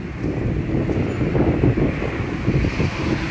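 Cold wind blows steadily beside a highway, a continuous low rumbling buffet with gusty swells over its length and no voices.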